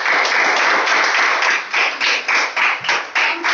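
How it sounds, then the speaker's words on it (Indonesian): Schoolchildren in a classroom clap their hands, first in a steady flurry and then in distinct rhythmic bursts, loud and close. "tepuk tangan dulu"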